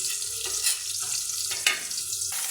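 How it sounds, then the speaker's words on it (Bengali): A ground spice paste for a meat curry with potatoes fries in a pan, hissing in a strong steady sizzle broken by a few stirring scrapes, close up with no voices. "এখন আমি মশলাটাও একটু কষিয়ে নেব"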